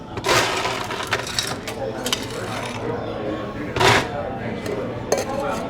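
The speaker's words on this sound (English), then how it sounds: "Fill your rocks glass up with some ice." Ice drops into a rocks glass in several sharp clattering bursts, close by, with a quieter rattle of cubes settling between them.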